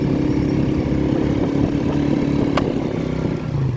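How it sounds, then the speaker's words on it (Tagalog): A motorcycle engine runs steadily and loud, with a low rumbling tone and rattling clatter throughout, close by. "Maganda tong motor na to, autopos. Malakas sa akyatan, tapos malakas yung hatak ang kanyang makina."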